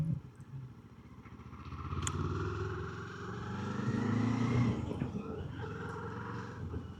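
A Kawasaki KLE500 SE motorcycle is ridden out from a dealership, its engine droning steadily beneath wind and road noise, swelling louder midway through as it pulls away, with no talk over it.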